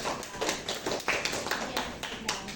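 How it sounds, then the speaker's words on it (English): A class claps for a presenting group in a teaching session, a short burst of scattered, close applause with uneven individual claps. "Please give applause to Group"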